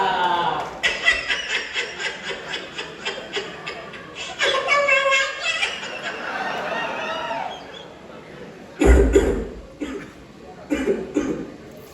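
Several harsh coughing bursts, loudest near the end, mixed with chuckling and voices in a lively, close-up scene from a stage play at a college freshers party.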